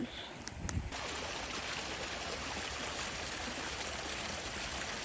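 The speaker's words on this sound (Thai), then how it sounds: "เสียงน้ำไหล" Clear stream water flowing steadily nearby in a steady broadband rush, with a brief rustle at the start before the continuous flow takes over.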